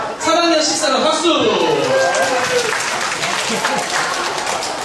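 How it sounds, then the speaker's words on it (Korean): A room of third-grade schoolchildren from class 3-14 bursts into loud clapping right after a shouted call, sustained applause with voices mixed in. "3학년 14반 박수!"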